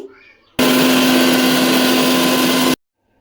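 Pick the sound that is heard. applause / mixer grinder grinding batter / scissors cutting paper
mixer grinder grinding batter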